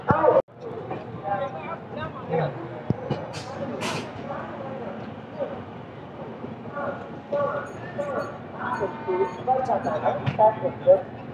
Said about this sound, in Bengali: আর আসানসোল থেকেও কিন্তু আমাদের এই ট্রেন ছাড়লো